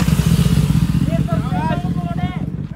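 A Kawasaki ZX10R motorcycle accelerates hard in a race against a Porsche, its engine a loud, pulsing low roar with rising harmonic sweeps. Excited voices talk over it.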